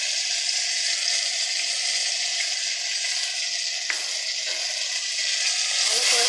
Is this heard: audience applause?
no